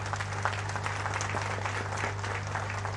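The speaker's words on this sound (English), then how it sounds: "Let us express our admiration for them with a big round of applause." Sustained applause for 1971 war veterans at a naval ceremony for the 22nd Missile Vessel Squadron, a large crowd clapping steadily over a constant low electrical hum from the sound system.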